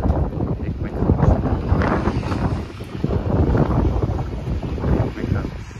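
Cold wind blows outdoors on a rainy day, buffeting the microphone with steady, rushing noise that swells and eases in gusts throughout.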